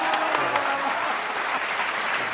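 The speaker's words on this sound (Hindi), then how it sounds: "जोरदार तालियां, वाह वाह वाह वाह" An audience claps loudly and steadily, a dense, continuous burst of applause that carries on throughout.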